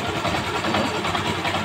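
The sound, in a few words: motorcycle engine with wavering sound, likely cracked engine block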